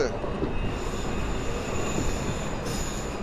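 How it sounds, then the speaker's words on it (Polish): PESA Elf electric commuter train on line S3 at Warszawa Służewiec station, a steady close rumble of rolling wheels with faint squeal and tonal whine throughout, loud and continuous for the whole stretch. "Mamy pierwszy skład. Jest to Elf na linii S3."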